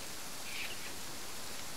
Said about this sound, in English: I can't keep turning that fucking rain off